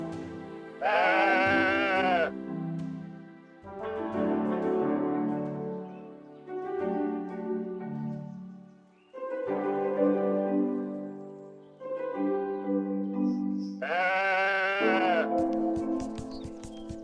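Sheep bleat repeatedly in long, wavering calls, close and loud, with several overlapping voices and short pauses between bleats.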